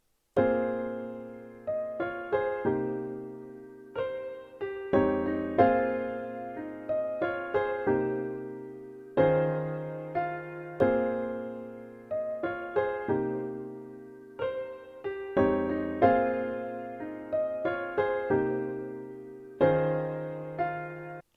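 Two layered Piano Tech piano presets, one of them the Steinway D Prelude, trade call-and-response phrases in a looping neo soul/R&B sample, with rhythmic chords and melody notes repeating steadily and no voices.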